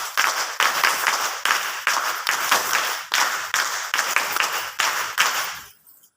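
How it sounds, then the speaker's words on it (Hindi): Trainee women at a training camp clap together in honour, a close, loud burst of group applause in roughly regular waves that fades out at the end. "द्वितीय मितानिन ताली बजा करके सम्मान करेंगे।"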